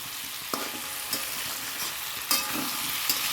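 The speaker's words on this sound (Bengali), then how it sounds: "দেখো কষানো হয়ে গেছে আর একটু কষাই" A potato and taro curry with prawns is sautéed in a pan, giving a steady close sizzle broken by four or five sharp spoon knocks and scrapes against the pan.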